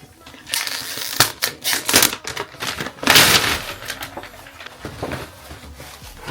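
Gift wrapping paper being torn and pulled open, giving close, crinkly rustling bursts with a sharp rip midway, louder at times and quieter between.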